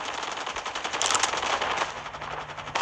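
Rapid automatic gunfire in Call of Duty Mobile, a dense, loud, steady stream of shots with no gaps across the whole stretch, with no talking over it.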